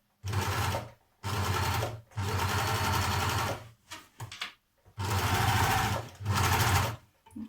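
A sewing machine stitches thick dress fabric in several bursts of steady rapid whirring, separated by short pauses, close and loud.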